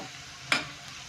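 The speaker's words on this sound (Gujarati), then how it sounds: "મરચાંની જે પેસ્ટ આપણે બનાવી હતી તે એડ કરવાની છે અને 1-2 મિનિટ સુધી તેને પણ સોતે કરી લેવાનું છે" A brief scrape of stirring over a soft continuous sizzle of green chilli paste sautéing in a pan.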